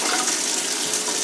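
Water runs steadily from a Danze Jasper kitchen faucet at strong pressure, a continuous close hiss and splash with no talk over it.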